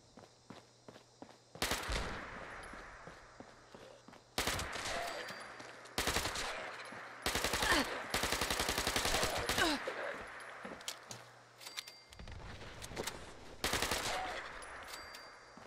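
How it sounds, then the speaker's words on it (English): Rapid machine gun fire in the video game Fallout 76 comes in several loud, close bursts of varying length, split by short pauses and quieter shuffling sounds. "We'll use the machine gun for a while."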